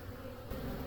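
Honeybees buzzing on a frame at a hive that has taken in a swarm, a steady close hum of many insects, slightly louder in the second half.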